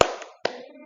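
Third-grade pupils clap their hands in a classroom, two short bursts of clapping with a brief pause between, each fading quickly.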